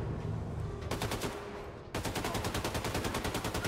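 Rapid automatic gunfire from the video game Wolfenstein II, a short burst that pauses briefly and then resumes as a steady, loud stream of evenly spaced shots.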